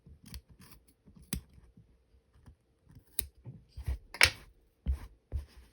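Scissors snip yarn tassels shorter in a quiet room, a series of sharp, close crisp cuts at irregular intervals with soft handling noise between them.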